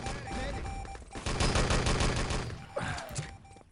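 An MP40 submachine gun in Enemy Territory rattles off a loud rapid burst of fire, followed by a couple of scattered shots and a grenade-like thump.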